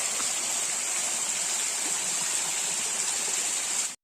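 A waterfall and stream pour steadily in a monsoon forest near a temple, giving a loud, continuous rushing roar that holds unchanged for about four seconds and then cuts off abruptly.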